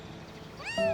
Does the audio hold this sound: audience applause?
no